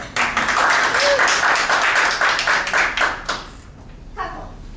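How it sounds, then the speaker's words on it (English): An audience gives a speaker a round of applause, close and lively clapping that builds and then tapers off after a few seconds, followed by a voice starting to talk. "So please give her a huge round of applause"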